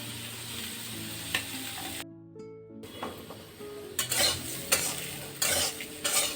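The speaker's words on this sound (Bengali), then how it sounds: "হলুদ দিয়ে উচ্ছেটাকে আস্তে আস্তে জাল দিয়ে ভালো করে ভেজে নেব।" Bitter gourd and potato pieces fry with turmeric in a pan. A soft sizzle runs beneath repeated scraping stirs, broken by a brief near-silent gap, then several sharper stirring strokes toward the end.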